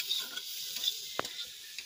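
Fish bones fry on an outdoor clay stove with a steady, soft sizzling hiss and a single sharp utensil clack partway through.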